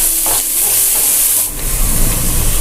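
Chopped onions and green chillies sizzling and frying in a pan with curry leaves, a loud, close, continuous hiss with brief stirring scrapes.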